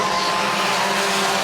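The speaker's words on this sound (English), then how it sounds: "Top 5 cars breaking away as they race onto the back straightaway." Race cars roar down the back straightaway at the Farmers Insurance 250, a loud, continuous engine drone with no break over the short stretch.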